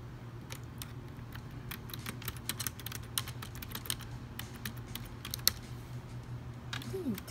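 Rapid typing on a computer keyboard, a dense run of sharp key clicks in an uneven fast rhythm, close and fairly quiet over a low steady hum from the room.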